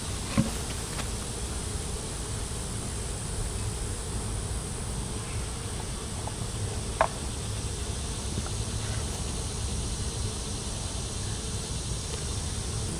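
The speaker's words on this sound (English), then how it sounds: "Oh yeah, that's full of bees." A dense, steady hum of many honey bees buzzing close by in a full hive during hot weather, continuous and even throughout, with a few faint clicks.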